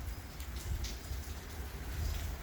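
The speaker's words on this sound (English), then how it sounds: "It's been raining all day long" Steady rain falls outdoors on a wet day, a soft continuous hiss with low rumble and faint patter, even and unbroken throughout.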